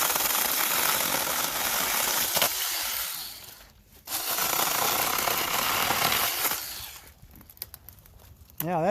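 A small battery-powered chainsaw cuts through wood outdoors, its buzzing whine loud and close, dropping out briefly mid-cut before resuming, then fading near the end.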